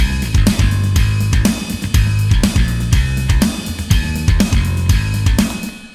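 Dry, crunchy bass and punchy drums play together in a drum and bass mix, with a steady driving rhythm of kicks and snare hits, loud and upfront, no voices.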